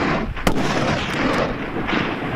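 A single sharp rifle shot cracks out while hunting Dagestan tur in the mountains, one loud impulsive report over steady wind and ambient noise, with no one talking.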